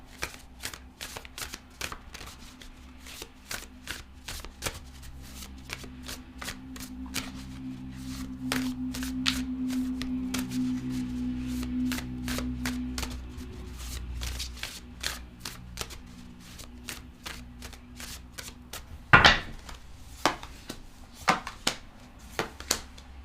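Tarot cards are shuffled by hand in repeated crisp riffles and flutters, quiet and close, with a brief louder clack near the end and no talking.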